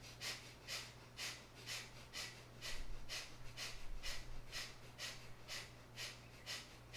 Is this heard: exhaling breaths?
yes